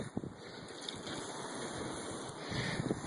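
Wind blows steadily outdoors, buffeting the microphone with a continuous low rush and broad hiss that gusts slightly stronger toward the end, with no voices.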